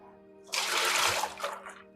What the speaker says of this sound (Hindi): 4 लीटर पानी लेके उसमें हम लोग फोम जनरेट कर रहे हैं। इसमें 4 लीटर पानी डाल दो।